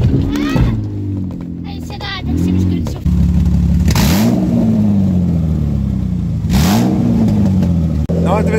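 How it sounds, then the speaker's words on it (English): A Mitsubishi Shogun Sport V6 with an exhaust damaged off-road revs loudly and steadily up close, rising in several pulls and falling back, while a person talks over it. "V6 sounds pretty cool when it's got a nice exhaust on it, but that is really loud"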